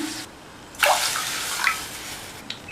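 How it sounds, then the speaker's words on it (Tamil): Water is poured from a cup into a pan while making a rava snack, a short splashing pour and a second, smaller splash with no talking. "1 கப் தண்ணி சேர்த்துடலாம்."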